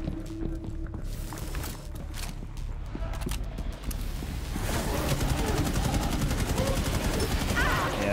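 Rapid gunfire in the Rainbow Six Extraction video game, bursts of shots growing denser and louder over several seconds amid game noise.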